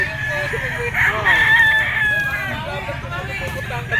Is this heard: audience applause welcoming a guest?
no